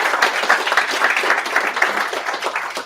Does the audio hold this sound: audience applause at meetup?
yes